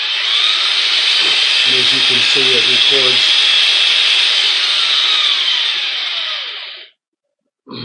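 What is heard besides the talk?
power drill running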